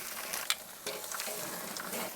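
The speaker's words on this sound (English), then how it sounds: "let it rest now while we sear these off." Iberico secreto pinwheels sear on a Weber kettle grill, giving a soft, steady hiss and sizzle with a few faint pops, heard alone at low volume.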